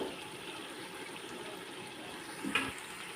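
Steady running water pours and splashes continuously into a cooking pot, with a brief louder gush near the end.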